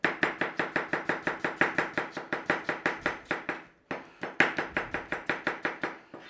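Knife slicing through potatoes on a cutting board in quick, even succession, a crisp close chop roughly every quarter second, pausing briefly midway before the rhythmic cutting resumes; no talking.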